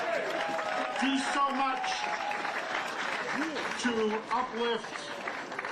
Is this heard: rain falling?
no